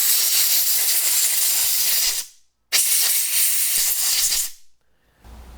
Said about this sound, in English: So I'll just air blow this here.